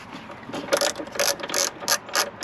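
A ratchet wrench loosening the ground connection nut on the driver's side of a BMW X5, giving quick bursts of clicking in uneven pulses, close and clear with no talk.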